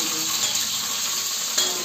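Garlic sizzles steadily in a hot pan while cooking chickpea greens, a continuous crackling hiss with a faint clink near the end.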